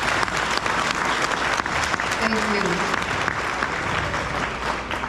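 Steady, dense applause from a meeting audience greets the chairwoman and fills the whole stretch, with a brief spoken thanks heard over the clapping.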